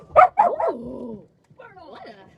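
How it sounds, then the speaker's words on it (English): A dog barks loudly on command, three quick close barks in a burst, then a pause and a quieter yelping bark with a voice nearby. "Oh, what a loud bark, sir."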